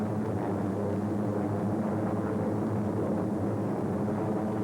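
A big four-propeller aircraft makes a continuous droning engine roar with a steady low hum, heard from on board as it races down the runway at full power and climbs.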